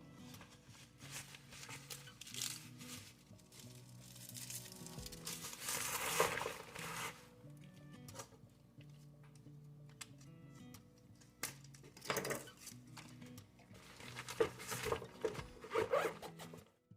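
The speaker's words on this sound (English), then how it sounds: "And you just want to wrap this up. I got wax paper this time instead of that saran wrap" Wax paper is folded and wrapped around a jerk chicken burrito. Close, quiet crinkling and rustling come in bursts of varying strength, with occasional sharper crackles, and no talking.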